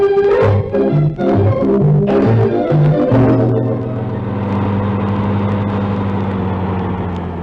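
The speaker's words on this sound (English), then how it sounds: "Now, let's get into the car." A 1954 radio show car sound effect opens with a few rhythmic engine chugs and revs, then settles into a loud, steady motor hum as the car drives on, with no voices.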